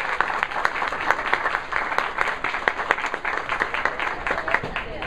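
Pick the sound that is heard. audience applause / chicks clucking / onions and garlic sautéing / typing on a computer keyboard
audience applause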